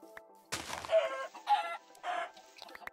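Chickens in the video game Minecraft, several short, close clucking calls in quick succession, clear and alone against a quiet background.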